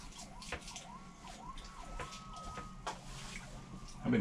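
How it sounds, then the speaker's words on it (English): Distant emergency vehicle sirens wail faintly in a rising and falling pattern, drifting through background noise outdoors for several seconds without anyone speaking. "I've been hearing sirens all day."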